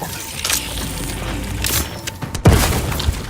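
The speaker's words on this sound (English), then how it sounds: "Grenade!" A grenade goes off in The Outer Worlds 2 combat: a sudden loud close blast with a low rumble, preceded by steady game noise and a short burst of clatter.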